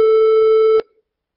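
A mellow electronic tone sounds at one steady pitch for under a second, then stops sharply with a soft click and a short decay.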